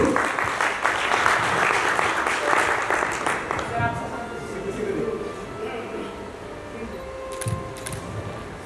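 Audience applause at a company launch ceremony, a dense wash of clapping that tapers off after a few seconds into quieter room noise with faint voices.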